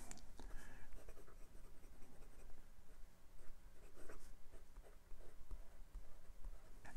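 A Lamy Dialog fountain pen with a smooth, bouncy, very wet nib writes on paper, giving faint, continuous scratchy strokes in a quiet room, with no talking.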